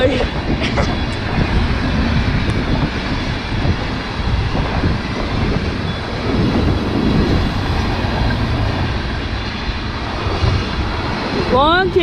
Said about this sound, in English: Long tanker train.